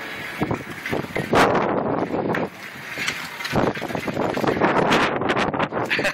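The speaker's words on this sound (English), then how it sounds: "it's going to be windy" Strong wind on the boardwalk at Ocean City, Maryland, buffeting the microphone in loud, uneven gusts that roar and drop, with a rushing, blustery texture throughout.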